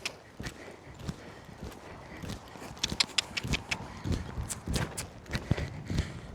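Horse hooves clip-clop at a steady walk while the horse is ridden beyond the pen during early canter training, with irregular close thuds and faint rustling throughout.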